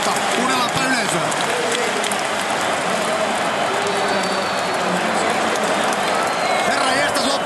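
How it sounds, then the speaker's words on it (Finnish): A stadium crowd roars and cheers after Finland scores against Germany, a dense, continuous wall of noise that stays loud and steady throughout. "Kuunnellaanpa yleisöä."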